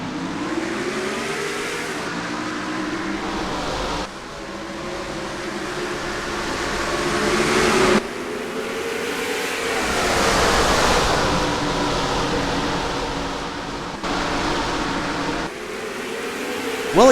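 Race car engines at the start of a short-track race in the NASCAR Racing 2003 game, a dense, continuous roar of many engines that swells and cuts between views, with a brief loud burst at the end.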